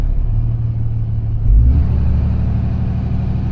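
A Ram truck with a 68RFE transmission and a newly installed RevMax torque converter, its engine revving in neutral, a loud close low rumble that swells sharply partway through and then holds steady.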